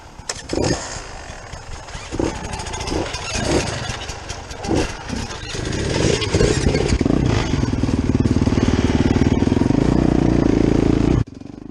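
A Honda CRF 450 RX dirt bike rides a trail in Mark Twain National Forest, its engine a loud, close, rough drone that revs in pulses, then settles into a steady roar before cutting off abruptly.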